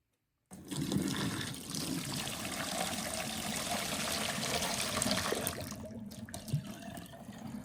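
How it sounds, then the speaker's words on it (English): Water pours and streams steadily through a Ninja CE251 coffee maker after a moment of silence, a constant splashing flow that continues without pause. "that's 2 coffee pots of water going through it"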